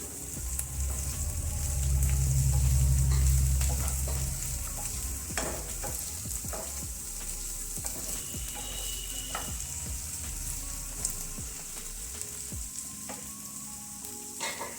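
Onions and tomatoes sizzle in a pan for shahi paneer, a steady close fry broken by repeated scrapes and taps of a spoon as they are stirred, with a low rumble early on and no voices.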